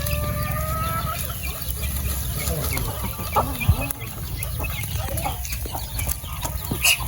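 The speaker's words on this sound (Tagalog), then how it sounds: "yung mga manok ko" Chickens clucking and a rooster crowing nearby on a Filipino backyard grill scene, scattered bird calls over a steady low rumble of background noise.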